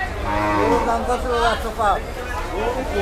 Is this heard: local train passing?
no